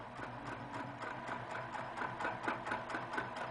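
Sewing machine stitching circles onto a quilt block, giving a steady, fast mechanical whirr with even needle pulses, heard close up and alone.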